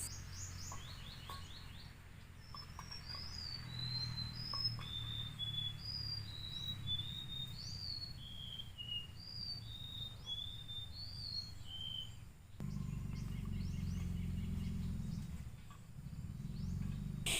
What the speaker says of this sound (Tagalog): habang nakikinig ng mga awit ng mga ibon